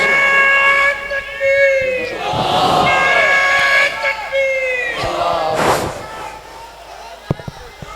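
A large crowd answers with a loud chanted takbeer slogan at a religious address, voices swelling together in a roaring unison shout that rises and fades over several seconds, with some clatter near the end.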